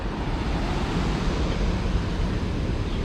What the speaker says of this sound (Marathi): हे पाण्याला खूप मोठा प्रवाह आहे बघा